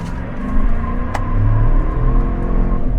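A 2026 GMC 1500 Elevation pickup truck accelerates with traction control off, its engine giving a steady close rumble that swells slightly as the gas is pressed, with a brief sharp tick partway through and no talking.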